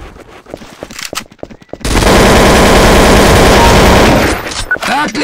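Rapid automatic gunfire from the game Counter-Strike: Source, a loud sustained burst of several seconds after a quieter stretch of scattered shots and game noise.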